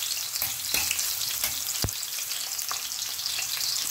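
Ginger sautéing in oil in a pan for chicken tinola made with native chicken, a steady loud sizzle with occasional stirring scrapes and one sharp knock, close up with no talk.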